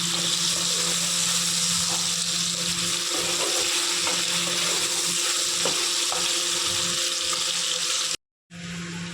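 Potatoes frying in hot oil in a kitchen pan, a steady dense sizzle throughout at close range, cutting out briefly near the end before resuming.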